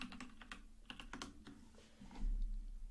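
Typing on a computer keyboard while building an Oracle APEX app, a quick run of crisp, close key clicks in uneven bursts with short pauses, clear and fairly quiet with no talking.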